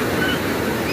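Ocean surf rolls onto the beach at Miraflores in a continuous, loud wash of breaking waves heard up close, with no voices over it.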